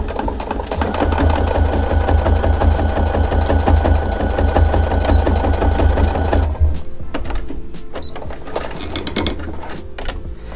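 Sewing machine stitching together the back pieces of a baby bootie, a loud close mechanical whir with rapid rhythmic needle ticking that stops partway, leaving lighter clicks and handling sounds.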